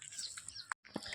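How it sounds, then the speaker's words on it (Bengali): Small birds chirping outdoors on a morning walk: a few brief, faint tweets rise over a steady background hiss, with one short gap of silence. "সকালবেলা কিন্তু পাখিদের কিচিরমিচির সুন্দর শোনা যায়।"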